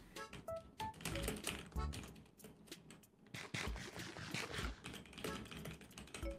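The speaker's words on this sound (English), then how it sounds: "Feels like I can hear someone typing." Someone typing on a computer keyboard, a fast irregular clatter of key taps in quick bursts with short pauses, faint and close, with no talk over it.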